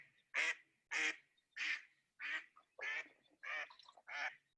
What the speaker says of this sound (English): This is the only duck call you have to know because it's just the one you're most likely to hear.